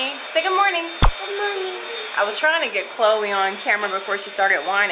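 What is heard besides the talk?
vacuum cleaner running in the background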